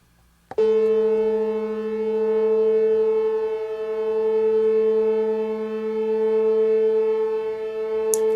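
A musical instrument is brought back into tune, giving one loud, steady sustained tone rich in harmonics. Its volume swells and dips slowly as the beating waves gradually slow.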